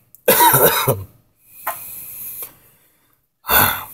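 Two loud, harsh coughing fits close by from cigar smoking, separated by a quieter raspy breath.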